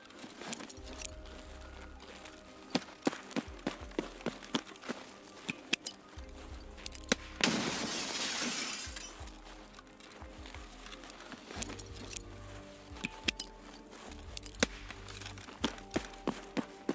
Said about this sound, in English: You can hear stepping on the glass.